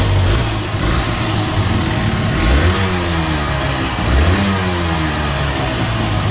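A Yamaha TZR125 two-stroke motorcycle with YPVS power valve, engine running loud and close, revved twice in rising and falling bursts over a raspy idle, with no speech.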